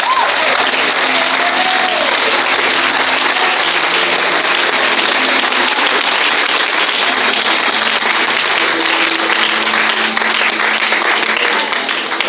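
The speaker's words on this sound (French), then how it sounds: "Acclame très fort le Seigneur" Sustained, loud applause from a church congregation during a French-language worship service, dense clapping filling the whole stretch with faint voices and tonal sounds blended underneath.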